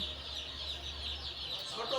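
Chickens cluck softly in a steady background murmur, with faint noisy farmyard ambience throughout and no clear talking.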